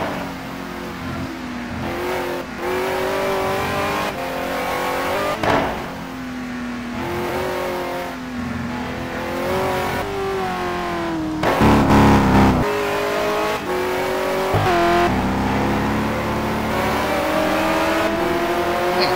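A GT1 race car at Sebring holds a loud, sustained engine note near the mic, with the pitch rising and falling through gear changes and a sharp surge around the midpoint; no voices are heard.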